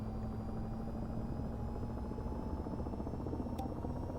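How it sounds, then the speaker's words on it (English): Helicopter rotor blades turn steadily in the VTOL VR game, a dense continuous whirring drone with a faint high whine, close and without voices. "Blades should start spinning here."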